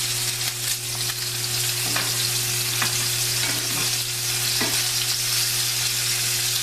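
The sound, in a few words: lollipop lamb chops frying in a pan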